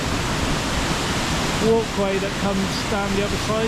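Stuibenfall waterfall in Austria rushes with a constant broad roar beside a via ferrata route, while someone talks over it.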